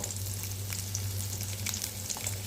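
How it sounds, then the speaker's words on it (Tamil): Garlic, chana dal and urad dal sauté in an oily pan, giving a steady close sizzle with small crackles and pops, and no voice over it. "வதக்கிக்கோங்க பாருங்கள் பூண்டு கடலப்பருப்பு உளுந்தெல்லாம் வதங்கினோன்னே"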